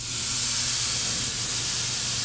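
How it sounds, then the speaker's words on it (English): A tri-tip steak searing fat side down on a hot grill, giving a loud, continuous close hiss and sizzle with no pauses. "I'm gonna let that sear for 5 minutes, turn it over, let it sear for 5 more minutes on the other side"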